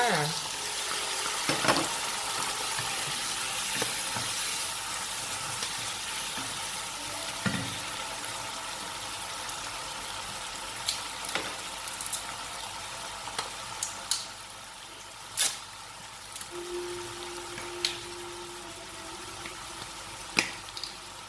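Calf liver stir-frying in a pan, a constant loud sizzle with intermittent clinks and scrapes of a spatula, plus a brief running-water sound partway through.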